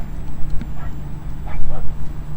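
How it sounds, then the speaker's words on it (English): A dog shut inside a parked car barks a few times, muffled and at some distance, over steady outdoor hum at a cemetery in Paris, Texas. "Dogs in cars barking at me is a theme."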